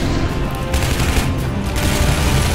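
Gunfire in the video game Shadow Warrior sounds as a dense, loud burst of rapid shots and booms that continues throughout.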